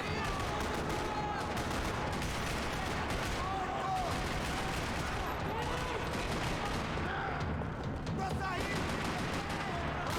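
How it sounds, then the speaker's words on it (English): Continuous rattling gunfire fills a parking lot shootout in the video game Max Payne 3, dense overlapping bursts at steady loudness with a voice occasionally under the shots. "Another parking lot rattling with gunfire"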